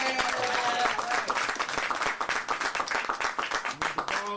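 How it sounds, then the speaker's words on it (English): A crowd applauds loudly, a dense, steady clapping that continues throughout without letting up. "Can we please give them a round of applause?"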